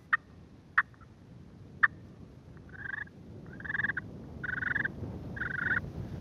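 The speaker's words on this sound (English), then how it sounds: "That's your purring." A turkey call worked on a slate friction call, first a few sharp single clucks and then several rolling purrs that grow longer and louder, close and alone.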